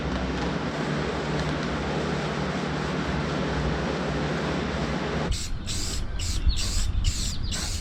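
An aerosol spray paint can sprays in a steady hiss over loud background noise, splattering a little, then several short bursts of spray follow near the end.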